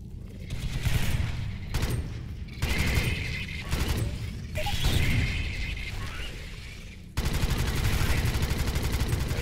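Loud, repeated shotgun blasts in a video game, with short bursts and mechanical clacking piled into a dense, continuous barrage of gunfire.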